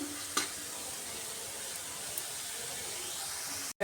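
Masala fries in a pan for an egg and potato curry, giving a steady, dense sizzle with one early utensil knock and a brief cutout near the end.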